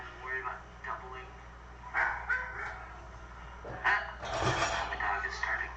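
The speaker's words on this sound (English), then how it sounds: "My dog is starting." A pet dog barking and yipping in short, scattered bursts, fairly faint and mixed with a person talking over a slightly distorted online call.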